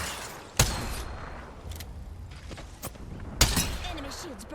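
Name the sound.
gunfire in the video game Apex Legends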